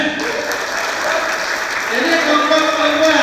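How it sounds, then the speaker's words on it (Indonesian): A student audience at a parliamentary class session applauds in a dense, sustained wash of clapping that swells slightly toward the end, heard alone without talking. "Tepuk tangan."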